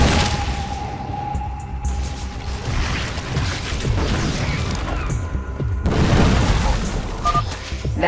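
Dominion barricade being destroyed in StarCraft II: Heart of the Swarm, a dense rumbling boom with mechanical creaks and debris over continuous game noise, swelling again near the end.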